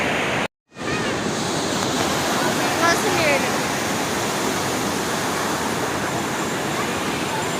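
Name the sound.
sea waves breaking on the beach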